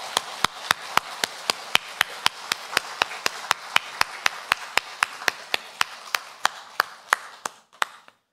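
A church congregation in Korea claps together in unison, sharp even beats at roughly two or three per second that hold a steady rhythm and stop abruptly after about eight seconds.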